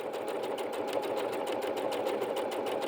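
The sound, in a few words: Bernette B-77 sewing machine stitching fabric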